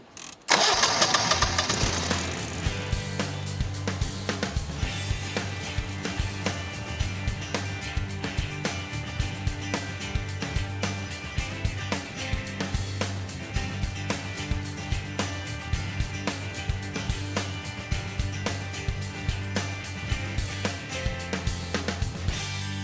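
Generac 22kW standby generator cranks briefly, catches and starts, then settles into a loud, steady engine run with rapid regular firing pulses, heard close up without talking.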